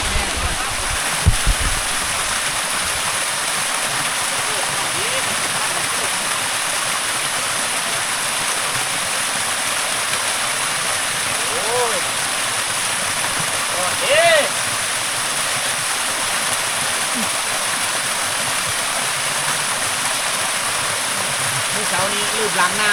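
A waterfall and stream along a nature trail away from a remote village fill the clip with a constant, loud rushing of water, steady throughout with a few faint bird-like chirps on top.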